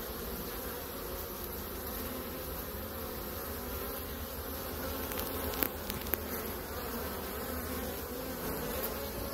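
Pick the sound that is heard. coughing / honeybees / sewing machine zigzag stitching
honeybees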